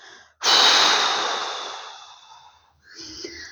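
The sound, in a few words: slow exhaling breath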